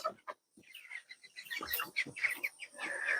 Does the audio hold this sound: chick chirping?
yes